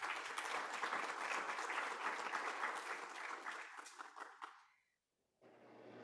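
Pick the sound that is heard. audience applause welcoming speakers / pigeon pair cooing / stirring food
audience applause welcoming speakers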